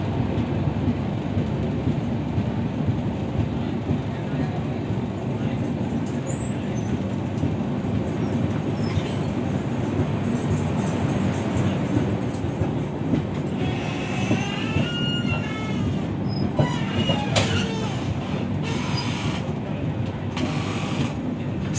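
From inside a coach of the Humsafar Express running from Delhi to Gorakhpur comes a steady, loud rolling rumble with rhythmic wheel clatter and faint squeals, and a few voices are heard now and then.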